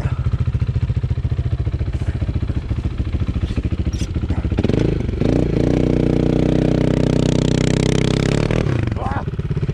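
Kymco Maxxer 250 quad bike engine straining in a sand pit, a steady loud motor drone that surges and revs hard in the second half, close by.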